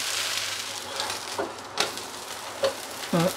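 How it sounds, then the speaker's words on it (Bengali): A chilla topped with carrot and onion fries in oil, giving a soft steady sizzle with a few light scrapes and taps of a spatula, close and fairly quiet. "চিলা বলুন, উত্তাপ্পাম বলুন, এইভাবে এগুলোকে ভাজতে হবে।"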